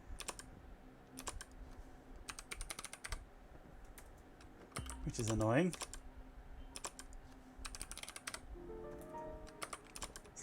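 Typing on a laptop computer keyboard at a desk, clusters of quick key clicks in short bursts separated by pauses, with someone speaking in the middle.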